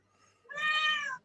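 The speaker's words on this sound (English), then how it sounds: "Oh, get the cat going on there." A cat lets out one clear, rising-and-falling meow lasting under a second, close and fairly loud after a brief quiet lead-in.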